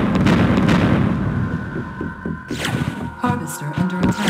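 A rumbling artillery barrage in the strategy game Twisted Insurrection: low, throbbing booms at first, then a cluster of sharper explosions and impacts, with brief game unit voices.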